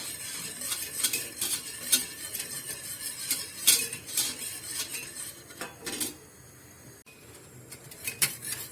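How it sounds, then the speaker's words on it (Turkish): A spoon stirs milk for güllaç in a metal pot, giving repeated close scraping and clinking strokes against the pot, steady and fairly loud, with a short pause near the end. "Biraz karıştırıyorum."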